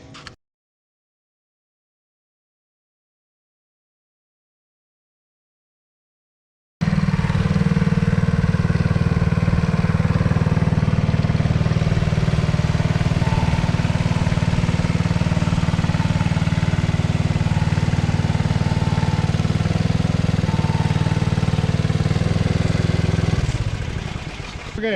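A homemade drivable log splitter's engine starts after several seconds of silence and then runs loud and steady, a close, rough mid-pitched drone that eases slightly at the very end.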